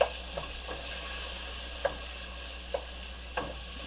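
Ham frying in a pan of bacon grease, a steady close sizzle with a few sharp clicks and taps of stirring scattered across it, no voices.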